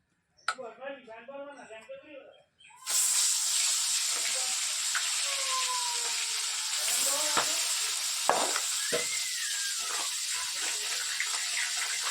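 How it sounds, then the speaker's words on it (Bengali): Fresh whole fish rubbed with turmeric and salt hit hot oil in a kadai, bursting into a loud, continuous sizzle and spatter right after someone speaks briefly. "বড় বড় মাছ তো দুটো দুটো করে দিয়ে ভাজা"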